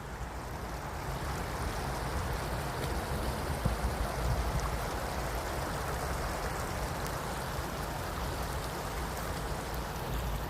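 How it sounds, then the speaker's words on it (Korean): Stream water from melting ice trickling steadily on a morning walk by stepping stones, a continuous close babbling wash with no speech. "졸졸졸 물소리."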